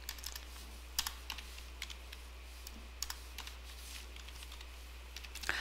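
Keys tapped on a computer keyboard while entering text into an Excel spreadsheet, with scattered quiet clicks in short bursts and pauses, close and faint over a steady low hum.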